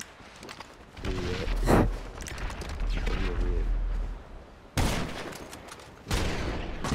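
Gunfire in GTA Online during a beach one-on-one fight, with loud sharp shot bursts and rapid volleys separated by short pauses.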